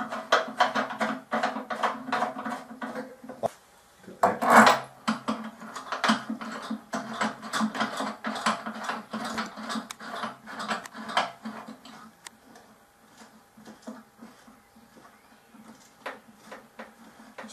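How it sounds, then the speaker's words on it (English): The tension handles of a Sky-Watcher Flextube 300 12-inch Dobsonian telescope are inserted and tightened, giving rapid close ratcheting clicks and mechanical ticks with a brief louder knock, then quieter scattered clicks. "Insert and tighten the tension handles."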